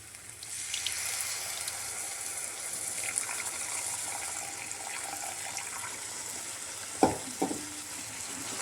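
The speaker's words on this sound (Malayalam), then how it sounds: "ഈ സമയം നമുക്ക് പുളിവെള്ളം ഒഴിച്ചു കൊടുക്കാം കേട്ടോ." A gush of tamarind water poured into a hot pan sets off a steady sizzle, with a couple of clanks near the end.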